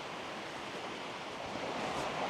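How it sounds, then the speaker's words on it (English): A fierce river rushing beside a path at the edge of a Welsh town, heard as a steady, loud broadband roar of turbulent water that holds without a break throughout. "the river sounds quite fierce up this side of town"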